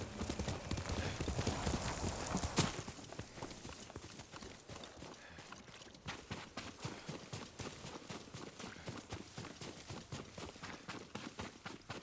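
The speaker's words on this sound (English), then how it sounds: "Riko's horse. She can't be far." Horse hooves clip-clop in the video game Ghost of Tsushima, starting as a busy rush and settling into a steady, rapid beat of hoofbeats over a faint bed of ambient sound.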